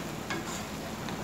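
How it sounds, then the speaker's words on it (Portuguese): Ground beef from pork shoulder frying in a pan, a steady soft sizzle with a few light stirring scrapes, close and quiet. "fritando mais um pouquinho essa carne"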